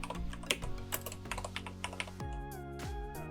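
Keys on a computer keyboard are typed in a quick, uneven run of crisp clicks as a layer name is entered. The clicks are close and clear over a steady background, with no voices.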